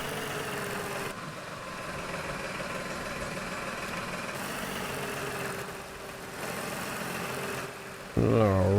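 A tractor engine idles in the farming game Farm Expert 2017, a steady low mechanical rumble that holds even throughout and picks up a louder, rougher tone near the end.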